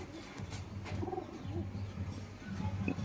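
A Rajshahi Giribaj pigeon coos in soft, repeated low murmurs close by, with steady background noise and no talk.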